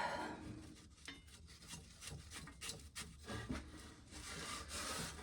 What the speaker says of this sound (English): so now I gotta scoop all this corn up